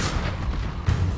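A fire spell cast in the video game Hogwarts Legacy erupts as a short, forceful booming whoosh of flame, loud and close, with a second burst flaring near the end.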